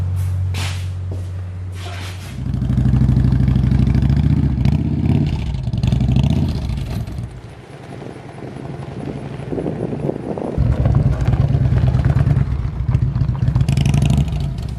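A 1996 Harley-Davidson Electra Glide rides up the road and back, its engine rumbling low and loud with steady throttle swells and wind buffeting the microphone throughout.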